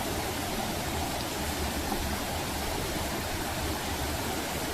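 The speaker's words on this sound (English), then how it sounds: "The river continuing to flow downstream" Steady, broadband rushing of a river flowing downstream in Rivelin Valley, near a coppice wheel dam on a summer path, constant and fairly loud with no pauses or voices.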